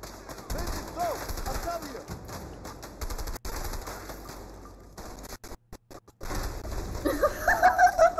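Rapid automatic gunfire in the co-op action game A Way Out, dense rattling bursts broken by brief gaps, loud and close, with players' voices over it.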